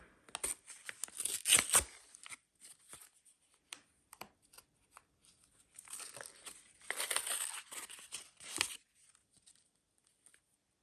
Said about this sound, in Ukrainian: Давайте відкриваємо цей пакетик.